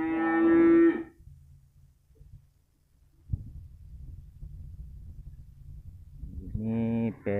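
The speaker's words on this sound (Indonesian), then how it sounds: "Ini pedet 2 ekor jantan" Two young male cattle calves moo in long, loud, close calls, one at the start and another near the end, with low quiet rumbling between them.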